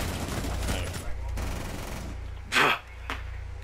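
Gunfire in Rainbow Six Siege comes as quick bursts and a sharp, loud shot, mixed with in-game noise and a player's voice.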